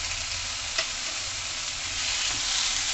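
Chopped tomatoes with salt cook in a pan for stuffed capsicum, giving a quiet, continuous sizzle with faint stirring and one brief tap, no voices.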